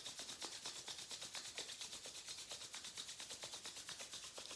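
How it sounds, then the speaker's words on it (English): Palms rubbed briskly together to build warmth, a steady rhythmic swishing friction repeating quickly and evenly, close and fairly quiet with no voice. "Rub the palms together, create some warmth."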